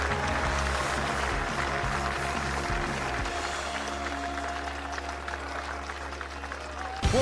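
A stadium crowd applauding in the London 2012 Olympic video game after an archery shot, sustained clapping and cheering that thins slightly, with a brief sharp sound at the very end.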